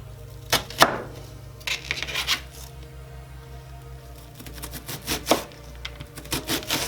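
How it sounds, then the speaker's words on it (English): An onion is cut with a knife on a board, with irregular clusters of sharp chopping and scraping strokes, close by and fairly quiet, with no voice present. "after cutting your onion in half, you cut some diagonal stripes on it, and then you can cut it the other way"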